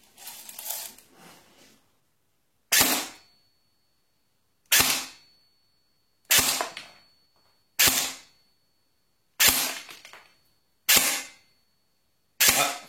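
A B416B bolt-action airsoft rifle firing 0.20 g BBs at about 350 fps: seven sharp, close, isolated snapping shots spaced roughly one to two seconds apart, each followed by a short decaying rattle, after an initial burst of handling clatter.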